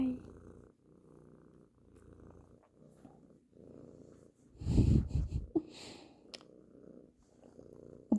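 A cat purrs up close in a steady, raspy rhythm of soft pulses, briefly swelling louder with snorty breaths midway before settling back to a quiet, even purr.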